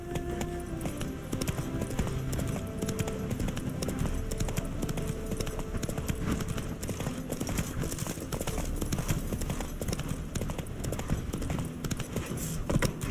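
Roach the horse from The Witcher 3 trots along in a steady, continuous clip-clop of hooves over a dense backdrop of game ambience.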